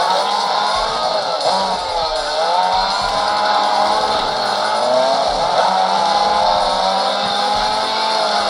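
Racing cars and tire squeals from the Need For Speed video game running on a PS2 emulator on a OnePlus 13 phone, a loud continuous engine whine with screeching skids, with no talking.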